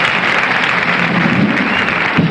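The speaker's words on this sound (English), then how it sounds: "Mr. Lou Brown, deserves a real cheer for a beautiful job, and the orchestra." A studio audience at a 1975 telethon cheers and applauds for the orchestra, a dense, steady wash of clapping and crowd noise throughout.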